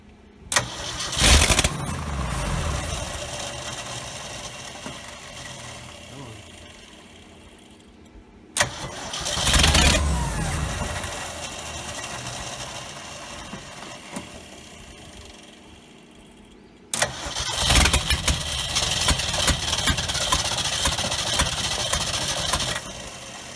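A 1969 Ford F250 engine starting after sitting 11 years: three separate attempts, each a sharp crank that catches into a rough, loud running rumble, with the last run held steadier to the end.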